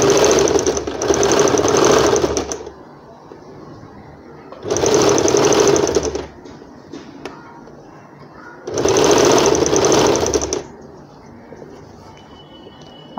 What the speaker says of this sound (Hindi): यहीं से फिर रिटर्न होंगे, क्योंकि इस तरह डबल सिलाई भी हो जाएगी